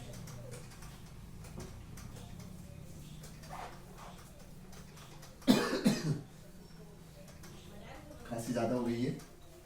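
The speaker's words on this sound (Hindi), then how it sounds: "खांसी ज्यादा हो गई है" Several coughs in a classroom-like room, a sharp burst midway and a rougher cluster near the end, heard over quiet background noise.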